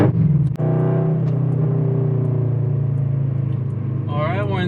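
An aftermarket exhaust on a car rumbles steadily in second gear as it heads onto a freeway ramp, a close, loud droning engine tone holding steady with a brief thump early on and a rising whine near the end.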